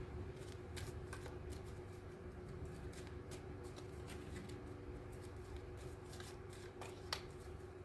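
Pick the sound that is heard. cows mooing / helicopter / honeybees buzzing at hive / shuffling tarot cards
shuffling tarot cards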